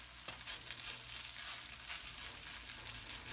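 Potato pancakes fry in oil in a pan with a soft, steady sizzle and crackle, faint and continuous with no voices.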